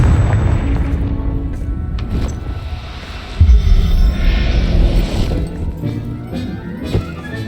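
Hogwarts Legacy Confringo fire spell bursting with a deep booming blast midway, surrounded by rumbling game effects and smaller crackling impacts before and after.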